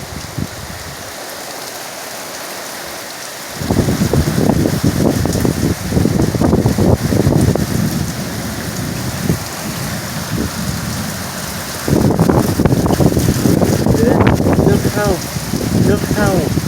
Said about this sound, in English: You can hear the heavy rain.